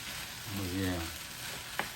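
Turkey fried rice sizzles steadily in a Power XL cooker, with a low stirring scrape under the frying hiss and a brief sharp clink near the end.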